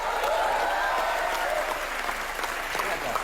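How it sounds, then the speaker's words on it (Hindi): An audience breaks into hearty applause for a guest's father on a studio show set, a dense, sustained wash of clapping from a crowd, with a host's voice heard over it. "इनके लिए भी जोरदार तालियां।"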